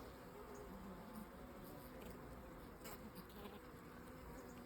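Honeybees hum at an open hive during an inspection, a faint, dense, steady drone with no voices.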